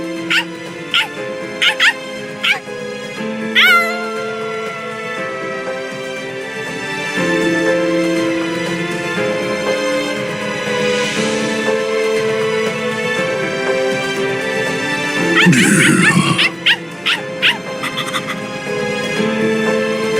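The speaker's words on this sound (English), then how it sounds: "Stupid, annoying dog." Dog barking and yipping in the video game Bleach Rebirth of Souls, short sharp barks and whimpers repeating over game music and effects, with brief speech in between.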